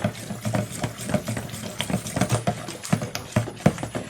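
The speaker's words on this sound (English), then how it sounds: "So we mix it in there very well" Oatmeal and fragrance oil are stirred into castile soap batter for baby soaps, a steady run of wet, rhythmic slapping and squelching strokes, close and continuous.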